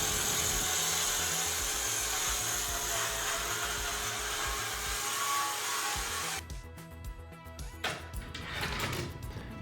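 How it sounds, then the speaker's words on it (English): A Festool track saw trims the edge of a wood slab with a loud, steady high whine, then cuts off partway through, leaving clattering handling noises and a quieter motor spinning down. "I'm here using my Festool track saw to trim it up, trim the edges up"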